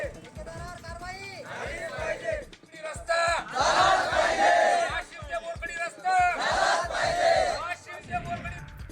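Villagers at a road blockade protest in Kekat Umra, Washim, raising loud group chants and shouts in rhythmic bursts, with crowd voices overlapping and swelling repeatedly.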